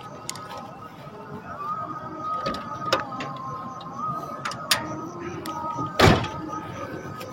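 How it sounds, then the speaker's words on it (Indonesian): The engine hood of a 2004 Ford Ranger with a 2.9-litre turbo diesel is opened, with light clicks and rattles of the latch and a sharp metallic thunk near the end, close by in a quiet space. "Kita buka kap mesinnya dulu."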